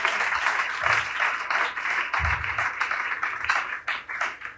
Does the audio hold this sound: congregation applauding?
yes